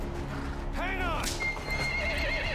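A white horse in Metal Gear Solid 5 whinnies loudly once, a rising and falling neigh over a busy background of music and game sounds.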